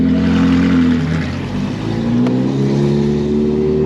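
A Ferrari 458 Challenge race car's engine revs loudly and steadily close by, pitch rising as the car pulls away, with no talking over it.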